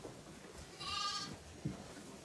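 On a sheep and goat farm, a single animal bleats once, a short wavering cry heard at moderate distance over steady low background noise.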